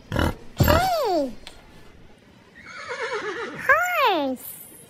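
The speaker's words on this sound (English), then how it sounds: "horse" A horse whinnies in two loud, close neighs, the first a sharp descending call near the start and the second a rising-and-falling whinny later, with a quieter nickering passage between them.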